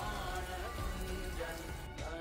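Steady rain falls outside a Shiva temple during Mahashivaratri, a dense continuous patter of drops on surfaces with no voices, holding an even level throughout.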